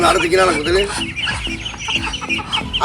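Domestic rooster or chicken on a small farm clucking repeatedly, several close, loud clucks in an irregular run with other fowl calls mixed in, no talk.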